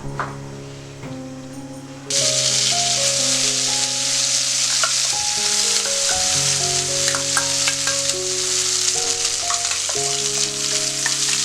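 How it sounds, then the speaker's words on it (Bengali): Spice paste fries in a little oil in a kadai with a bright, continuous sizzle that swells loudly after a quieter start, while gentle melodic background music plays throughout. "যে মশলাগুলো পেস্ট করেছি সেগুলো শুকনো করে ভাজার জন্য।"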